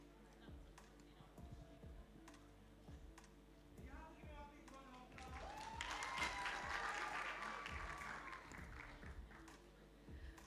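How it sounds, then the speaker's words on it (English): Youth conference audience applauding, a soft patter that swells in the middle and then fades, with some faint voices mixed in. "Give her a round of applause."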